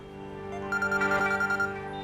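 A phone ringtone chimes in a quick repeating pattern of electronic beeps, close and clear over a low steady hum.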